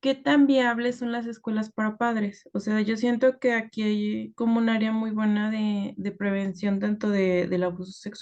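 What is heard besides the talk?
None of the usual background noises is heard.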